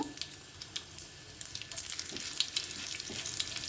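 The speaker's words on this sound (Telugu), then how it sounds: "ఆవాలు జీలకర్ర చిట్పట్లాడిన తర్వాత" Mustard seeds and cumin splutter in hot oil for a traditional Telugu sorakaya curry, giving a continuous close sizzle scattered with sharp crackling pops throughout.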